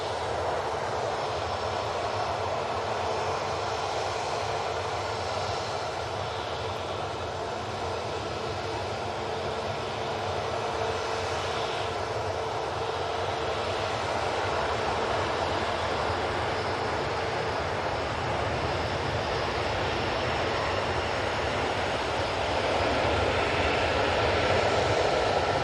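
A Virgin Airbus A330 with Rolls-Royce Trent engines roars steadily at Manchester Airport, a loud continuous jet drone with a broad hiss that holds without pause and grows slightly toward the end.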